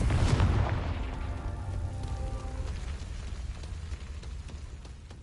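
A Confringo spell goes off in Hogwarts Legacy as a loud booming blast that opens sharply and then rumbles and rolls away over several seconds, with no one speaking.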